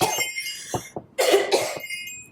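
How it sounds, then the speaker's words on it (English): A few rough coughs in succession, close and fairly loud, with brief pauses between the harsh bursts. "A serious cough, my friend."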